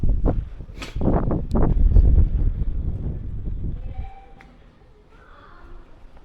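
A steam train at Didcot Railway Centre rumbles and chuffs loudly up close, then fades to a quieter hum with faint clanks in the distance.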